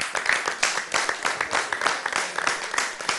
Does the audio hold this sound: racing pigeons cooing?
no